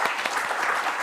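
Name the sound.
audience applause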